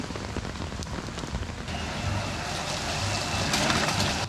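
Heavy May downpour in a Guangzhou urban village, a dense, steady hiss of rain on surfaces that grows slightly louder and fuller toward the end, with faint low rumbles of passing traffic beneath.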